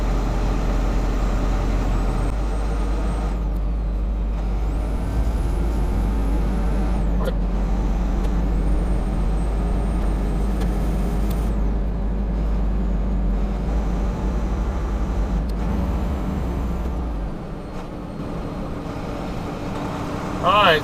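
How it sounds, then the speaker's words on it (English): A truck pulling out at night, heard from inside a big rig as a steady low diesel rumble and road drone, with faint hissing and whining tones over it and a person talking over the sound. "truck pulling out helped me out here"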